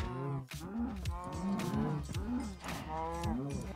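Repeated loud cow moos from Minecraft cattle, several overlapping lowing calls in quick succession, close and prominent with no talk.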